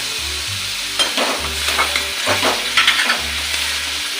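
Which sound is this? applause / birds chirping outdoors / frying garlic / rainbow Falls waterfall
frying garlic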